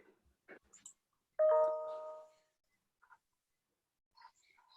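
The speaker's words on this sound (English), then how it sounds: "There was a ding dong then." A single electronic chime rings once during an online video conference hearing, a clear tonal note sounding alone and fading over about a second, with faint scattered clicks and murmurs before and after.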